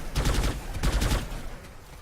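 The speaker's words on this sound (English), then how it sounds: "Notice how Kazuni is firing at that base" Video-game gunfire crackles in a few quick bursts from weapons fired at a base, moderately loud and fading toward the end.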